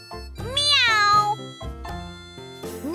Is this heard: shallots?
no